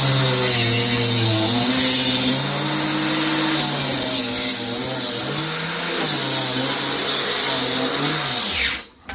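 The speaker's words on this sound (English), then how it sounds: "Make sure the plunge saw is within what you're cutting, and go from there." Plunge saw running on a rail cuts through wood for a barn owl nest box, a loud close steady whine whose pitch shifts slightly under load, then winds down sharply at the end, no speech.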